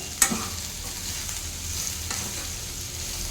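Ivy gourd fry with green chilies is stirred in a pan: one sharp utensil clink at the start over a continuous soft sizzle, then another light scrape.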